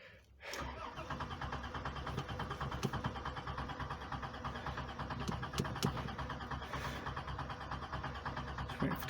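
A 1998 Plymouth Voyager's 3.3 L engine, freshly fitted with new injector seals, cranks briefly and catches at close range, then settles into a steady, even idle that runs to the end.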